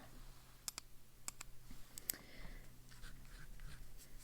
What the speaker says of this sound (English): I need to write this first